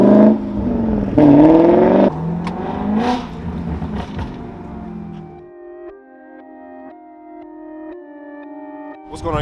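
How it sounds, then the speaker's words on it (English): A modified BMW 7 Series with an inline engine revs and accelerates loudly at a car meet, its rising harmonic engine tone climbing in bursts before settling into a steadier note with a faint whine. "You press the gas and it goes."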